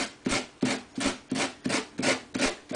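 Medium-grade sandpaper rubs through fabric along the edge of an antique walnut writing slope in about eight rhythmic, evenly spaced strokes, close and clear with no talking.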